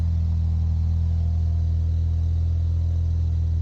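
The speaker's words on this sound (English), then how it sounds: "You can hear the turbos blowing through here." A turbocharged car fitted with a DIY higher-flowing exhaust holds a steady, deep, low-toned rumble, loud and close, with no break or voices.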